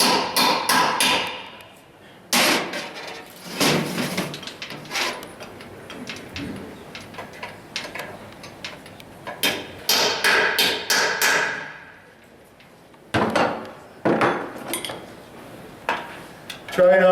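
A punch is hammered against tabs on a Honda 6-speed transmission case during disassembly. Loud, sharp metallic strikes come in irregular clusters with brief quiet gaps between them.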